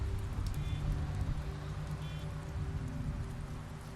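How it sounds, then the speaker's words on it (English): Rain falls steadily in the video game The Wolf Among Us, a close, even patter of drops over a low rumbling ambience, with a couple of faint tonal blips and no speech. "And it's raining?"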